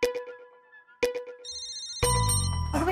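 A phone ringtone plays twice as a short melodic phrase, then gives way to a brighter electronic ring with harsh static underneath, fairly close and loud in a quiet room.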